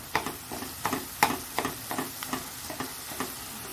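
Egg curry frying down with spices in a pan, a soft steady sizzle broken by regular scraping strokes of a spoon stirring about every half second, close up and without talk.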